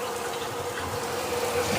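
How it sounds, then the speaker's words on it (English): Tap water runs into a kitchen sink, rinsing a raw lamb, a steady close splashing gush that swells slightly toward the end. "I want to rinse that lamb off before I do anything to it"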